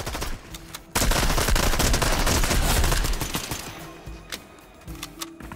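Rapid automatic gunfire in Fortnite, a dense loud burst of shots lasting about two seconds, then scattered single shots and quieter pops trailing off.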